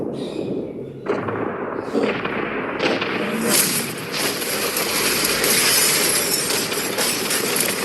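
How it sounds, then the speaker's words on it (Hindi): A yacht blown up in a staged stunt: a sudden loud blast that swells into a sustained roaring, crackling rumble with bright hissing debris, heard up close and continuing without letup. "3, 2, 1, उड़ा दो।"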